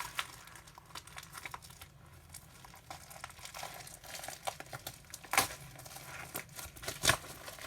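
Packaging on a new manga volume being torn and crinkled open by hand, soft irregular rustling and crackling with a couple of sharper rips, close and fairly quiet.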